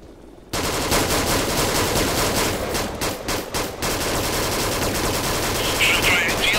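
Sustained automatic gunfire in Arma 3, aimed at the gunner of an MI-17 helicopter: loud, dense and continuous rattling for several seconds after a quiet opening, with brief gaps midway and a voice faintly under it.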